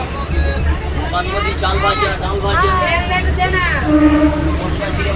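A crowded local train in Kolkata rumbles steadily under the dense chatter of many passengers, with the constant low drone of the moving carriage running beneath overlapping voices throughout.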